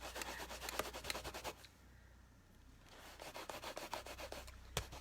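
Rubber stamp scrubbed clean on a Stampin' Scrub pad: close, rhythmic rubbing strokes in two bursts separated by a quiet pause, with a sharp tap near the end.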